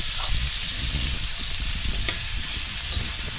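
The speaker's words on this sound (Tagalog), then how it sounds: "Ilalagay ko na dyan yung kamatis. Yun naman yung gigisa natin." Tomatoes sauté in a hot pan for a paksiw sa gata of tulinga, giving a steady close sizzle with scraping stirs and a couple of sharp utensil clinks, no voices.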